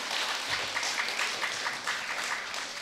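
A room full of people clapping steadily for a few seconds at a church feast, a soft continuous patter of many hands, moderately distant.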